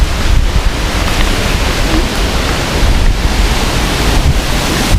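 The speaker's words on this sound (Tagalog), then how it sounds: "Sobrang lakas ng hangin dito, no?" Strong wind buffets the microphone continuously outside an abandoned hospital, a loud roaring rush with no pauses and no voices.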